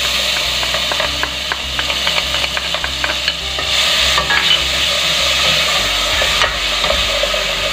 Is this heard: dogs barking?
no